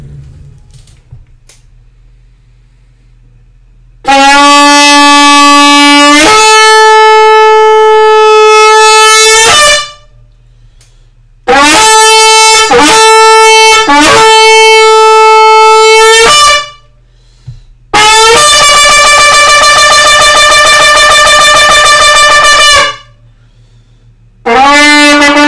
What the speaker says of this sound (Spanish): Vamos a tocar este chofar para que nuestro hermano escuche el sonido que le sale a su chofar de